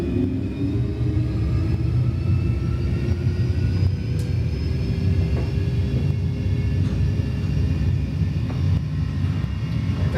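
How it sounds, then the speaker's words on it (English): A Boeing 737 simulator takeoff gives a constant, loud, low engine roar and rumble with a faint rising whine, steady throughout with no talking. "we can start takeoff"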